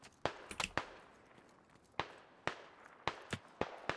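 Distant gunshots crack in the video game Squad, with several sharp single reports spaced irregularly and a bullet striking close by, over a quiet background.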